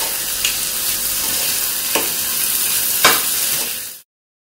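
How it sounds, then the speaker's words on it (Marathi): Tava bhaji vegetables sizzle loudly on a hot griddle with a constant frying hiss, punctuated by a few sharp scrapes of stirring before the sound cuts off abruptly. "ते आपल्याला छान मिक्स करून घ्यायचं"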